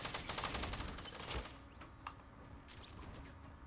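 Rapid gunfire in Fortnite Battle Royale, a dense fast volley up front that fades, followed by a few scattered fainter shots against a background hiss.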